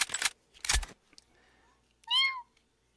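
A single short meow-like call, rising then falling, stands alone after a couple of loud knocks, sounding like a person imitating a cat.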